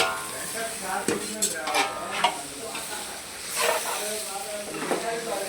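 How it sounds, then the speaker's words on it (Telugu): Shredded cabbage with chili powder stir-fried in a hot pan, a steady sizzle under repeated scraping strokes of a spatula or spoon, close and moderately loud, with no talking. "చక్కగా వేగిపోయిందండి క్యాబేజీ ఫ్రై తయారు చేసేది."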